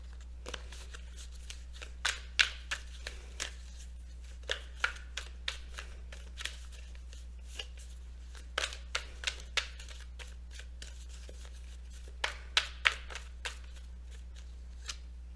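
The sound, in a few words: shuffling oracle cards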